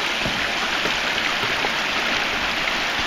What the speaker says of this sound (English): Right beside the creek, flattest spot I could find.